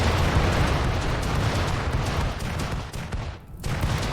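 Rapid, dense explosions and fire crackle in the colony-building game RimWorld, a continuous loud barrage of blasts with a brief dip near the end.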